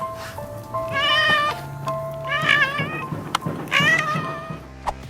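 An injured cat meows repeatedly in plaintive, wavering cries, loud and close, three or four drawn-out calls over faint background hum.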